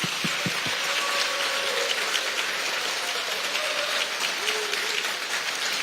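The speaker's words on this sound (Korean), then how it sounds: "큰 박수 부탁드립니다" Sustained applause from a crowd at a Democratic Party campaign committee's closing ceremony celebrating an election win: a dense, steady wash of clapping that continues throughout.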